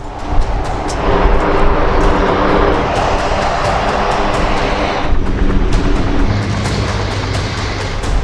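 Heavy military transport aircraft such as the Globemaster and Hercules during a military exercise, a loud continuous engine roar and rumble that stays steady throughout with a slight shift in tone midway, no talk.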